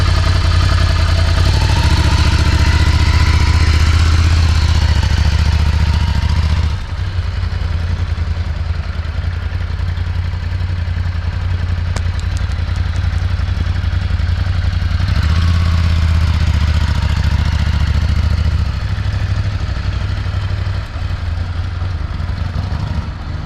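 A Ducati Scrambler motorcycle ridden slowly along a street with obstacles, its engine a steady low rumble and whir that swells, eases off in the middle, then builds again, with no speech.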